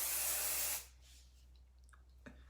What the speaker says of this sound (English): The next thing I would be using is the hairspray